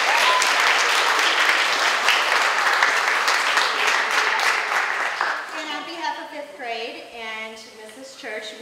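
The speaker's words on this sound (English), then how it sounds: "Let's give a round of applause for our teachers and principals." Strong applause from a school graduation audience for teachers and principals, steady clapping for about five seconds that tapers off as a voice begins speaking.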